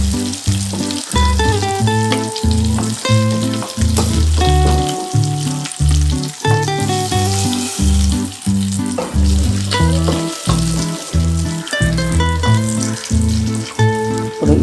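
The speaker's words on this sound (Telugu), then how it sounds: "ఇదే ఆయిల్లో ఉల్లిపాయ ముక్కలు, పచ్చిమిరపకాయ ముక్కలు ఫ్రైకి వేయించుకోవాలి." Onion and green chilli pieces fry in hot oil left from frying prawns, giving a loud, steady sizzle that runs the whole time, close up, with music playing over it and no talking.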